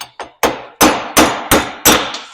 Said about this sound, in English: So I just knocked these out with a hammer